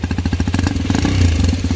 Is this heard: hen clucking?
no